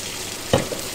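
Onions sizzling in odourless coconut oil in a pan while cooking a southern-style fish stew, with a steady frying hiss and one brief louder crackle midway, heard close up.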